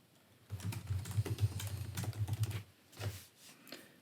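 Code being typed on a computer keyboard: a quiet, fairly steady run of close key clicks for about two seconds, then a brief pause and a few more taps.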